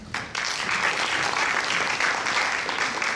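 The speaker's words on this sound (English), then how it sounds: "Another round of applause for the 4 panelist debaters." Sustained applause from an audience fills a university debating competition hall after a model debate, a dense steady clatter of many hands clapping at moderate distance, continuing without a break.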